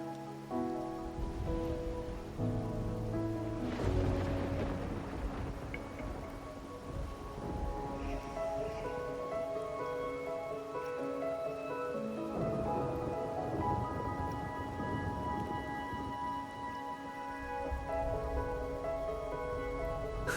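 Steady rain patters across a video game scene, a soft continuous wash over gentle background music, with no voices.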